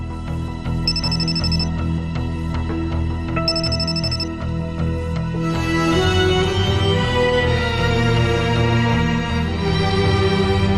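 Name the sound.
phone ringtone of an incoming call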